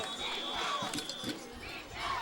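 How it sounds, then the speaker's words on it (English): A high school football crowd at a Senior Night game between Wayne Hills and Paramus cheers before a 4th down play, a faint, distant roar with scattered shouts and brief swells of noise. "The crowd is ready."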